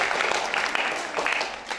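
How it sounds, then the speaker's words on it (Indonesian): Clapping for young theatre players after a school performance. The applause is steady and fairly close throughout the short clip, with some crowd voices mixed in. "bagus untuk tepuk tangan untuk mereka"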